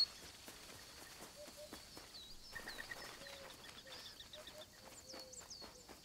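Bird calls from the wildlife video game Alba: A Wildlife Adventure chirp and warble at a moderate distance, a few repeated short phrases over soft ambient game sounds and light footstep-like ticks.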